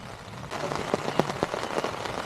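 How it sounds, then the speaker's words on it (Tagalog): Steady rain patters on a surface at a rainy-season motorcycle campsite, with scattered louder drops tapping close by over a constant hiss. "naulan pa rin. Pero parang ambon lang, medyo malakas na ambon."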